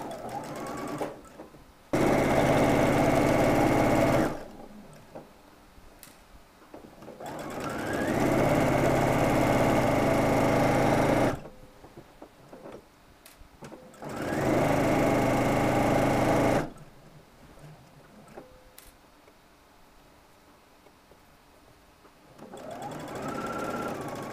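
A sewing machine stitches the side seams of a shirt in three long runs of steady, high-pitched motor whir, with quiet handling pauses between them and a fourth run starting at the end.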